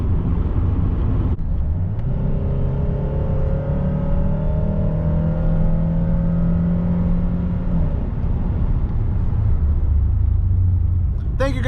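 A 1997 Toyota Camry LE engine revs up under full throttle from inside the cabin, a steady rising drone with a whirring tone that climbs for several seconds before dropping back, over continuous road rumble.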